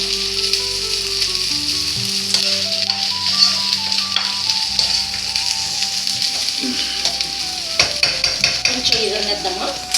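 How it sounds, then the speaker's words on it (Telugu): Ginger paste and tomato frying in a pan, with a steady bright sizzle throughout and occasional stirring scrapes and clinks of a utensil, while soft background music runs underneath. "ఈ అల్లం పేస్ట్ పచ్చివాసన పోయేంత వరకు వేసుకొని అప్పుడు టమాటా"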